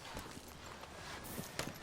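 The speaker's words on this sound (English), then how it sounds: "Are you gonna mount that new horse of yours or not?" Horse hooves walk in a video game, a few soft, muffled clip-clop steps with an uneven rhythm, faint and distant under a low ambient bed.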